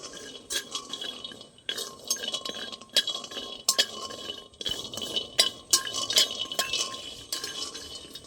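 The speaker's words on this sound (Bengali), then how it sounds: "বাদামগুলো কিন্তু কড়াই নুন দিয়েও ভাজা যায় তা আমি এমনি ভেজে নিচ্ছি" Dry rattling and scraping as raw peanuts are dry-roasted in a pan without salt, with repeated clinks of a spatula against metal at an irregular rhythm, close by.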